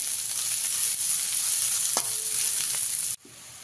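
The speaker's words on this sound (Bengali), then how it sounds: "গ্যাসের ফ্লেমটাকে মিডিয়ামে রেখে আপনারা পেঁয়াজটাকে ভেজে নেবেন" Chopped onions fry in oil over a medium gas flame, a steady close sizzle with a couple of brief utensil scrapes, cutting off abruptly near the end.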